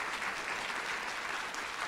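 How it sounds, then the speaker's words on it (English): An audience at the 2022 WISE Forum gives a short round of applause for a panel: dense, even clapping, heard fairly softly and at a distance, with no voices over it. "I'd love to just have a quick round of applause for our panel"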